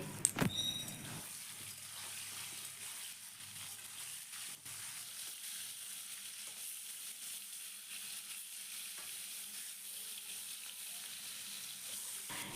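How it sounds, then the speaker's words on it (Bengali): Salted, cut pointed gourd (potol) fries in hot oil with a steady, even hiss that carries on without a break, after a brief clatter at the start as the pieces go in. "এবার এই তেলের মধ্যে দিয়ে দেবো কেটে রাখা পটল পটলের মধ্যেও সামান্য লবণ দিয়ে পটলটাকেও খুব ভালো করে ভেজে নিতে হবে"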